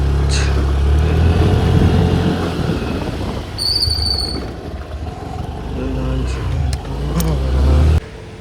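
A motorcycle rides along a road toward the market, its engine droning steadily up close with wind rushing past, the note rising and easing as it speeds up and slows down, with faint traffic around.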